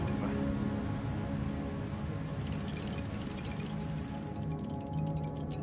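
Steady rain pours in the video game Manifold Garden, a dense, continuous hiss that stays loud and even throughout, with no voices over it.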